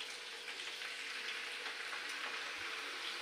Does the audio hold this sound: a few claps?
no